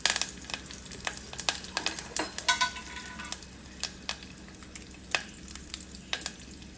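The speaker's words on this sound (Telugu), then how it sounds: "ఆయిల్ కాగిన తర్వాత ఈ పోపు గింజలను ఇందులో వేసుకుని బాగా దోరగా వేగనివ్వాలి" Tempering spice seeds fry in hot oil in a kadai for tomato rasam, giving a continuous sizzle broken by sharp, irregular crackles and pops close by.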